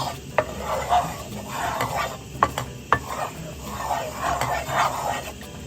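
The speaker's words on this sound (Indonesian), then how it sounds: "Jadi kita aduk dulu kayak gini." Porridge is stirred in a pot off the heat, producing a steady scraping and swishing with a few sharp clinks of the utensil against the metal, close and continuous for several seconds.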